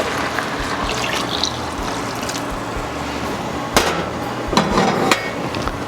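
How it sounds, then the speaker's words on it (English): Water poured into a pot of vegetables for soup, a continuous trickling, splashing flow with a few louder clanks and splashes near the end. "Now I'm going to put in some just water."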